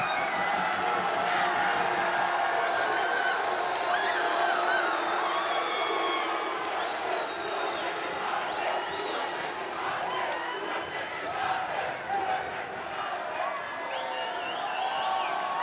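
Checkmat supporters cheering wildly after a black belt jiu-jitsu final at the 2025 World Championship, a sustained roar of crowd noise with shouts and clapping, loud at first and easing slightly toward the end.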